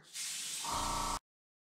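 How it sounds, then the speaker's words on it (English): An airbrush sprays paint in a close, steady hiss lasting about a second, joined by a low buzzing hum before it cuts off abruptly into silence. "get my airbrush and blow some more."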